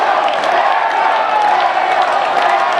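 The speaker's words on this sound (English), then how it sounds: "Crowd gets louder." Baseball stadium crowd swells into a loud, continuous roar of cheering and scattered clapping between pitches, a dense close wash of noise.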